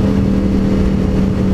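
A steady, loud motorcycle engine drone with a low rumbling hum, continuous and close, with no voices.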